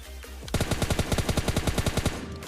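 Rapid automatic gunfire in the Free Fire battle royale video game, a steady burst of about twenty evenly spaced loud shots fired close up, with no talk over it.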